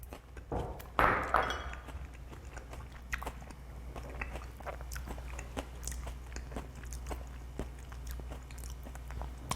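A bowl clinks sharply once, then comes close, steady chewing of an oyster dish with onion and garlic, with soft crunchy bites repeating and no talking.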